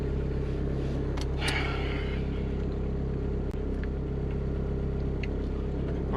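B20v turbo car engine running at a steady idle before a spirited drive, a low continuous rumble with a faint hum, fairly quiet and unchanging, with a couple of brief clicks on top.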